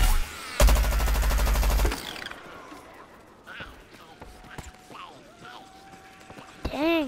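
A loud burst of rapid machine gun fire from a Plants vs Zombies Garden Warfare character, lasting over a second near the start, followed by quieter scattered game effects and a voice talking.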